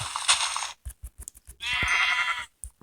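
A sheep in a video game gives a few loud, close bleats in short separate bursts with gaps of near silence between them, and no one speaks.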